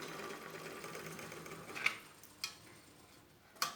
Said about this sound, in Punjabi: ਦਾਦੀ ਮਾਂ ਮੰਮਾ ਦਾ ਸੂਟ ਸਿਉਂ ਰਹੇ ਨੇ